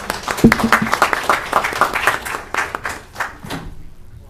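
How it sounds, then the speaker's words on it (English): Audience applause at a county freeholder meeting in Linden, with irregular claps rising and fading over about four seconds, moderately loud in an indoor hall. "Big round of applause."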